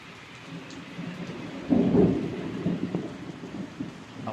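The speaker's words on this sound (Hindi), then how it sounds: "देखो बारिश कितनी ज़्यादा तेज़ हो गई और बिजली चमक रही है" Heavy rain falls steadily during a thunderstorm in Jammu, with a low rumble of thunder swelling midway and fading into the hiss of downpour.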